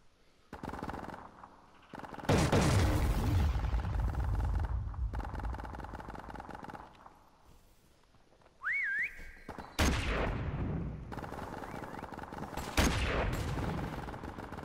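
In Call of Duty: Modern Warfare prop hunt, several loud bursts of automatic gunfire ring out with quiet gaps between them. A short rising whistle is heard midway.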